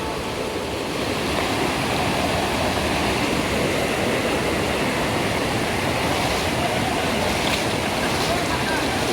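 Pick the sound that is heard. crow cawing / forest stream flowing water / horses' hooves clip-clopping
forest stream flowing water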